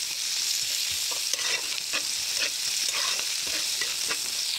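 Salted vegetables fry in a pan with a continuous bright sizzle, while a utensil stirs them with soft, irregular scraping strokes, close and steady for several seconds without speech.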